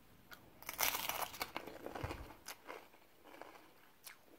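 A tortilla chip dipped in homemade red chili salsa is crunched in the mouth, giving several loud, close crunchy bites that come in bursts and then taper off, with no talk.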